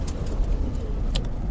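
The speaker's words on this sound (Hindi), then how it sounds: "अब इसको गौर से समझ लें कि कबूतर बैठा है" A perched domestic pigeon, red and white in colour, coos softly under constant outdoor background noise, with a brief sharper call near the end.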